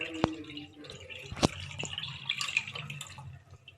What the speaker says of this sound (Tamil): இதை இப்போது ஃபில்டர் பண்ணி எடுத்துக்கலாம்.